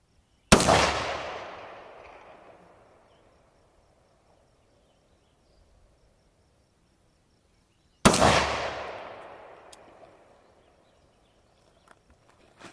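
Two loud, close gunshots from a 300 Blackout firearm at an outdoor shooting range, about eight seconds apart, each with a sharp crack and a long echoing decay, followed by faint small clicks.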